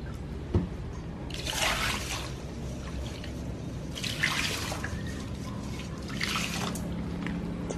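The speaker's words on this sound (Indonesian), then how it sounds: "pertama sekali cuci berasnya sampai bersih" Rice being washed in water, heard as three separate bursts of sloshing, splashing and trickling over a steady low background, with no talk.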